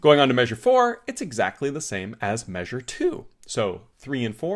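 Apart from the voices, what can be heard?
No everyday noises stand out.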